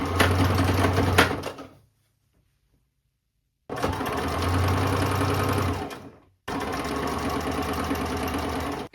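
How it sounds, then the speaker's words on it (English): Sewing machine hemming a thrifted top about a quarter inch along the bottom edge, running in three close, steady bursts of rapid stitching separated by short pauses. "we're going to hem the bottom about 1/4 inch and then sew along the perimeter"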